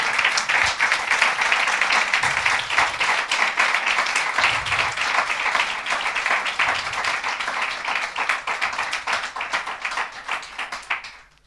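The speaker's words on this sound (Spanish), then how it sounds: "Aplaude al Rey de Reyes" Congregation applauding during a church sermon, a dense, sustained burst of many hands clapping at full strength for about ten seconds before tapering off at the end.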